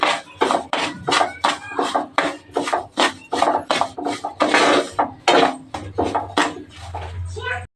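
A spatula rasps rhythmically against a pan as semolina is dry-roasted for avarekalu (field bean) upma, about a dozen quick scraping strokes repeating steadily throughout, close and fairly loud, with a low hum near the end.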